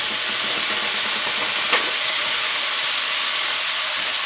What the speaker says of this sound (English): And we're going to stir that around.